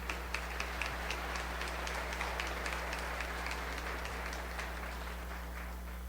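A church congregation at a Catholic charismatic retreat applauds, steady rhythmic clapping from many hands heard faint and somewhat distant over a constant low electrical hum.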